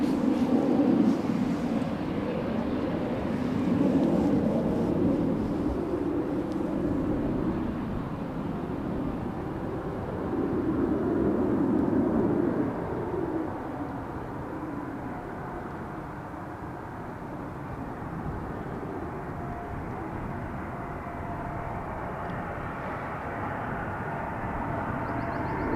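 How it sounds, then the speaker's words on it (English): An Embraer jet touches down on the Polderbaan runway at Amsterdam Schiphol, a broad distant roar of engines and rushing air that swells and then slowly fades as the aircraft rolls out. No talk over it. "you can see the Embraer just touching down"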